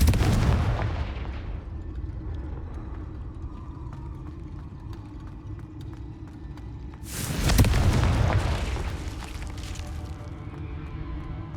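Fiery Confringo spell blasts in Hogwarts Legacy, two heavy booming explosions about seven seconds apart, each opening with a loud crack and rumble that decays into a lingering roar, with no voices.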